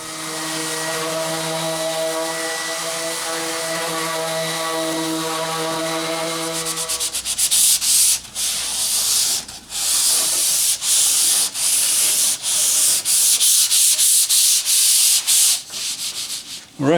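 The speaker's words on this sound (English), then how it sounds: "a little hand sanding to kind of finish it off." Sandpaper rubs by hand across a wooden driver's panel in quick, repeated scratchy strokes, close up, after a steady droning hum fades out.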